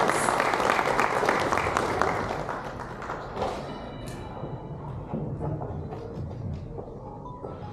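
An audience gives a round of applause as chief guest V. Muraleedharan, India's Minister of State for External Affairs, comes to the podium at a chamber of commerce event. The clapping starts full and loud, with some thuds and taps, then fades to a thinner patter.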